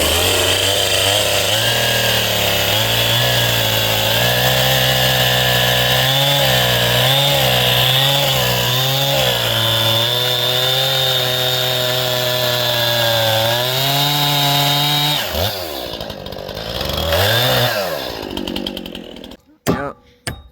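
Power saw cutting notches into wooden bracing, a loud, continuous motor drone with pitch dipping and rising as the blade bites, then the load eases and a few sharp knocks and clatters follow near the end.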